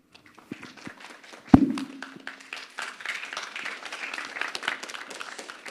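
An audience at a talk on Jainism gives brief, scattered clapping that starts faintly, with one sharp thump partway through, then builds into light, steady applause from a modest crowd.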